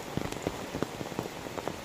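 Raindrops patter irregularly on a hard surface close by, a soft scattered tapping over a faint steady hiss.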